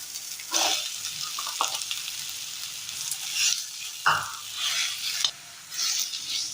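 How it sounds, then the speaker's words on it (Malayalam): Crushed ginger, crushed dates, powdered cardamom and cinnamon stirred together in a hot pan, a soft sizzle broken by several close scraping strokes of a spoon at an uneven pace. "നന്നായി ഒന്ന് മിക്സ് ചെയ്തെടുത്തിട്ടുണ്ട്."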